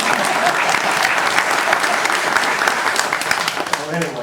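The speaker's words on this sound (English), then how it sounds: "If anybody deserves an applause," An audience breaks into sustained applause, a dense wash of clapping that holds steady at full strength for about four seconds.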